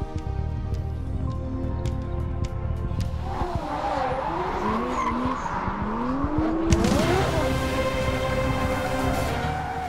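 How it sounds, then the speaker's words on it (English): A drift car slides through a corner, its tires squealing in long wavering screeches over a loud revving engine, the skid growing more intense and continuous toward the end. "Drifting is a new, high-adrenaline, thrilling motorsport"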